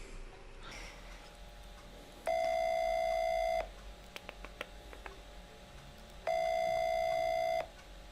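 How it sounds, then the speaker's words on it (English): Two long electronic ring tones of an outgoing phone call, separated by a pause with a few faint clicks, heard alone over quiet background hiss. "Hopefully you can hear this ringing."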